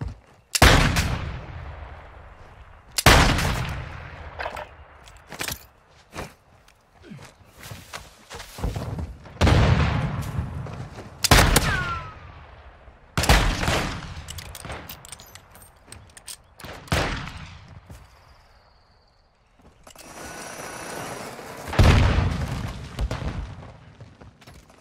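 Loud, widely spaced gunshots and heavy booms fire in Call of Duty: Modern Warfare 2, each sharp blast trailing off into a short decay, with quieter gaps between the salvos.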